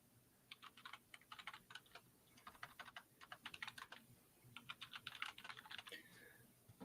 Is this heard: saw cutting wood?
no